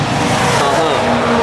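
A BMW M2 fitted with M Performance aero parts and exhaust drives past at the Nürburgring during a track day, a loud, steady engine roar close by with a rising and falling pitch as it passes.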